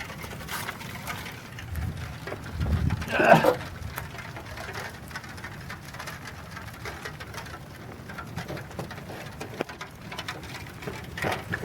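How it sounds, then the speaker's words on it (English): Rain falls outdoors at an RC model plane flying session, a steady soft hiss of drops throughout, with a faint bird call and brief low voice murmurs partway through. "But no, it decided to rain."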